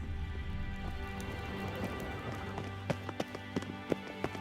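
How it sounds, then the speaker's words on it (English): Footsteps in The Witcher III: Wild Hunt fall as a short run of distinct thuds against a low steady ambient drone, growing sharper and more spaced toward the end. "Footsteps."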